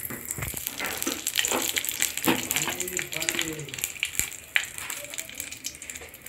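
A bay leaf fries in hot oil for a cauliflower-stem chorchori, a crackling sizzle and bubbling that runs steadily at moderate loudness while someone talks over it.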